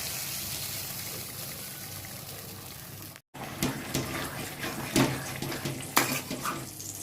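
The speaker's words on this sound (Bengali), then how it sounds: "এরপরে এই কড়াইয়ে একটুখানি জল দেব" Water poured into a kadai while cooking chicken, a splashing liquid rush with metallic pan clinks after a brief gap, close and moderately loud, no speech.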